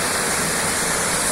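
Excess water from Bhimtal Lake pours out at the dam in a steady, loud, broadband rush, close and continuous with no voices.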